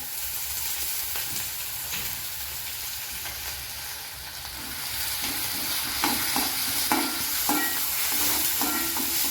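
Finely chopped onions frying in a pan, a continuous close sizzle and hiss with stirring clatter that grows busier toward the end.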